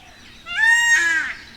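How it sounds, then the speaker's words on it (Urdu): A peacock's loud rising call rings out once at close range, a bright harmonic wail lasting about a second in an outdoor nature setting with no talking. "یہ مور کی آواز"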